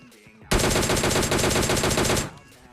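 A long automatic burst of rapid gunfire in the shooting game PUBG Lite, loud and close, lasting under two seconds with no talk over it.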